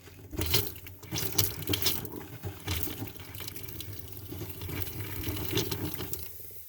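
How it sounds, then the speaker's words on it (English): Water pump on a Sea Ray Sundancer 230 boat cycling on and off, with splashing, running water and gurgling that surges and eases across the stretch, close and fairly loud, no speech. "You hear the pump going on and off."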